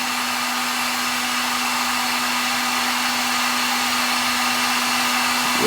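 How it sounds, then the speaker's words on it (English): A heat gun blowing hot air to shrink heat-shrink tubing over a soldered wire splice during a Mitsubishi Evo 8 radio and steering wheel install, a steady loud close whooshing blow with a constant motor hum and no talk. "So you just grab a blower and then take a look at this."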